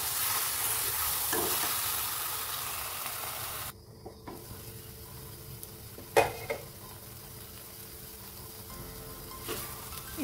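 Tomato paste frying in oil for an amaranth-stem curry sizzles steadily and close up, with a short quieter break and a few sharp stirring clicks and scrapes against the pan.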